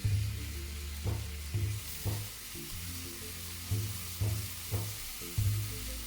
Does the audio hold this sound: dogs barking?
no